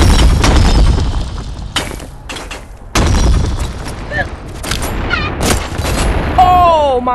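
Pistol shots in the VR game Animal Company: sharp, loud cracks fired in quick clusters across an arena match, mixed with other game noises.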